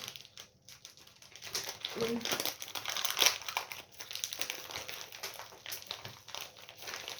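Crab stick packaging crinkles and rustles up close in a kitchen while a salad is being made, coming in irregular bursts that are fairly quiet.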